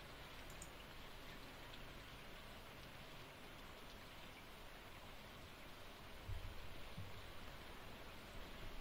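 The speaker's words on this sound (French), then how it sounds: "Là, normalement, est-ce que vous entendez la pluie?" Rain in the video game Stardew Valley: a soft, continuous hiss of falling rain, even and fairly faint throughout, with a slight low thump near the end.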